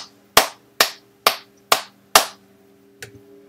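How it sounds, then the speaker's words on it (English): Five sharp, evenly spaced hand claps close to the listener, followed by a softer, quieter sixth clap after a short pause. "everybody, clap."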